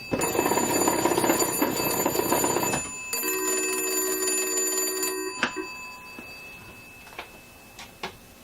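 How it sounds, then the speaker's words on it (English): Bells of an oak Cracraft Leich wall telephone ring in a loud, rapid metallic jangle, pause briefly, ring again, then a few soft knocks and clicks follow. "So this phone rings on an incoming call. But you can also crank the bells when it's not ringing."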